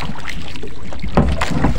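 A boat engine sputters and catches about halfway through, its rough low rumble rising over a steady background of wind and water.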